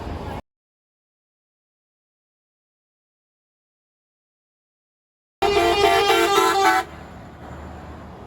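Car horns beep in a loud, steady burst of stacked tones for about a second and a half at a street protest in Bankstown, Sydney, following long silence and fading to a lower traffic rumble.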